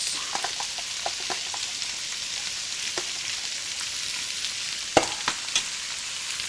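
Mixed vegetables with shiitake and button mushrooms, ginkgo nuts, golden needles and corn stir-frying in a wok, a steady soft sizzle broken by occasional scraping clicks and a few louder knocks near the end.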